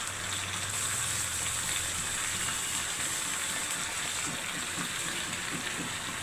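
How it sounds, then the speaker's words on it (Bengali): Water is poured into a pressure pan of cooked moong dal, a steady gushing splash that runs unbroken for several seconds at close range. "এই ডালের প্রেশার প্যানটা ধুয়েই আর একটু জল দিয়ে দেবো।"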